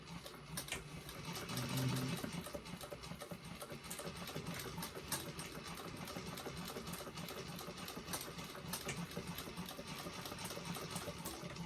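A sewing machine top stitches a Molly bag an eighth of an inch from the edge, running in a steady fast mechanical whir with a brief louder stretch early on, moderately faint and alone.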